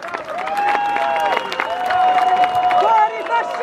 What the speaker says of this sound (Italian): Vi chiedo di accoglierla con un applauso.